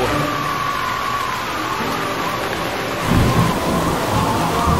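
A thunderstorm with heavy rain on an island, its steady downpour hissing loud and close while low rumbling thunder swells and grows stronger toward the end.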